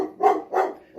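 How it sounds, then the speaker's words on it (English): A dog barks twice in quick succession, each bark loud and close, with nothing else heard around it. "that's my dog barking"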